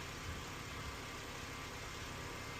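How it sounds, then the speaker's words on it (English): A cold 2009 Honda Civic engine idling high, a steady even drone with broad noise and no talk, constant and fairly close throughout. "You guys can see the idle is really high."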